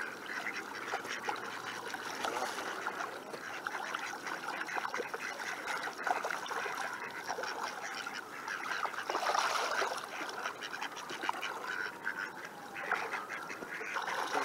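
A duckling dabbles in water at sunset in a Seattle neighborhood, with repeated quacks and soft splashing and trickling, moderately close and continuous over a quiet outdoor background.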